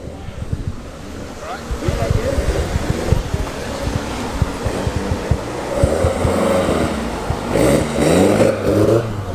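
A Lotus Europa and a heavily modified S-Type Jaguar drive in at a classic car meet, engines rumbling nearer and louder over wind buffeting on the microphone.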